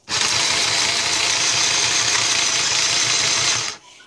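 Small toy sewing machine with a weak presser foot stitching, a loud, steady, buzzy motor whir with a fast rhythmic chatter, close by, running continuously for nearly four seconds before cutting off abruptly.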